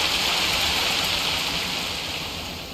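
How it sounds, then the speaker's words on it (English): Heavy rain in Farming Simulator 25 hisses in a loud, steady wash of patter that eases slightly toward the end, with no talking. "that's loud rain"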